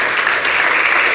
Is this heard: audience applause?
yes